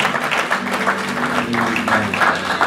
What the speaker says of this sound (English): if you're willing to get to know AJ, could you just come to your feet and give God a hand clap?